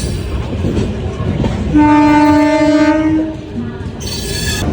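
A train at a Secunderabad railway station sounds a loud, steady horn blast lasting over a second amid rumbling rail noise, with a fainter horn near the end.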